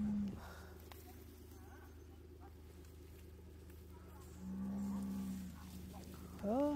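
A cow in labor, calving, gives a few low, drawn-out moos, one in the middle and another starting at the end, over a steady low rumble of barn noise.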